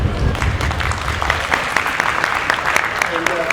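Audience applause at a middle school symposium, a steady wash of clapping from a crowd, moderately loud and sustained throughout.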